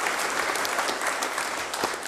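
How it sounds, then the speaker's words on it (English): Steady applause from people attending an Oklahoma City council meeting, a dense, even patter of many hands clapping at close range without pause. "I have some applause for the two young ladies"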